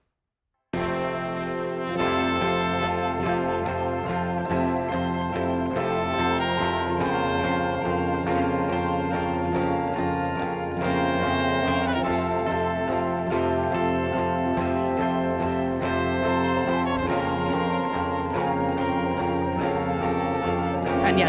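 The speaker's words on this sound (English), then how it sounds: "I duplicated the theremin sound and I did them in harmonies in the left and right channel." Theremin-like lead melody doubled in harmony, one voice panned left and one right, playing continuously over a full, dense musical backing with steady loudness throughout.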